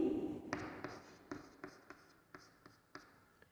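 Chalk or marker taps and strokes across a board in a quiet classroom, a string of short sharp contacts spaced roughly every half second, near and fairly faint.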